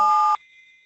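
A phone beep on a conference call, a loud steady electronic tone that cuts off abruptly, leaving a faint high ringing tail.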